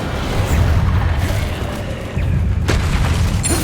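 Magic spell blasts in the Hogwarts Legacy game rumble as deep booming explosions, a heavy low roar with a fresh blast about two-thirds through and crackling debris on top, loud and close.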